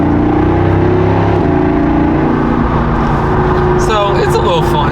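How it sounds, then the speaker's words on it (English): Jeep Wrangler 392 V8 revving with its exhaust valves open, a deep throaty engine note rising and falling in pitch, heard close from inside the vehicle. "we got the exhaust open right now, so we can hear it just a little bit better"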